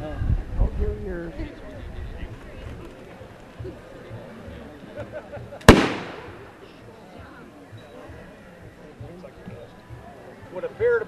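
A smoothbore flintlock dueling pistol, 1812 era, fires a single sharp crack midway, preceded by quiet outdoor murmur and talking, with the report decaying quickly into ambient noise.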